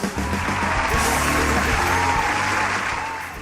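Loud applause and some cheering from a live studio crowd, a full, steady roar of clapping that gradually tapers off toward the end.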